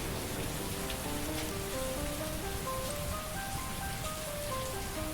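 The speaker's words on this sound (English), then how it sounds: "We got the rain" Steady rain falling on a surface in a stream setting, a continuous dense patter with a soft melodic tune playing faintly underneath.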